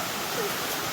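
Laurel Creek on the Appalachian Trail rushes in a steady, close, broadband wash with no pauses.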